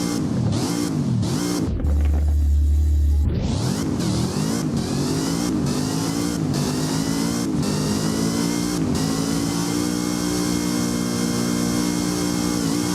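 A Zenvo TSRS in the Driving Empire video game revs hard and loud, with quick throttle blips rising and falling, a brief cut-out, then a sustained high-pitched wail, with no talking.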